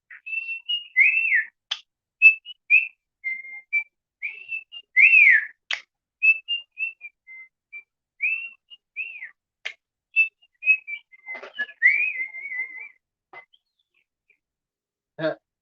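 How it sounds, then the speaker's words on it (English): A pet bird whistles a series of short, rising and falling tonal phrases, bright and close, broken by brief clicks and pauses, with several whistles repeated in irregular bursts over about fifteen seconds. "he'll do the whistle and then the click,"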